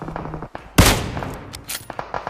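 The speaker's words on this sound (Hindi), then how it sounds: "पागल जैसी गोलियां ही गोलियां।" Gunfire in the battle royale game PUBG: a sharp, loud close shot followed by scattered further reports and clicks, with brief echoing tails.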